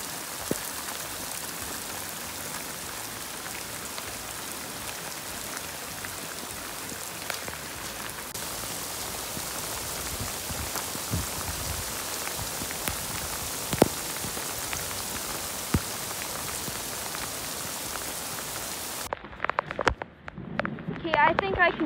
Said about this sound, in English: It's just pouring. This is, I think, full on hail.